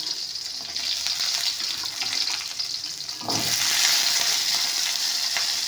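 Pepper, garlic and dal roasting in a pan for spicy chutney, a steady hissing sizzle close by that swells louder midway after a brief clatter, with no voices.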